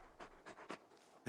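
A large dog named Torgal in Final Fantasy 16 pants close by in short breathy bursts, about four puffs spaced over a second, with no talk over them.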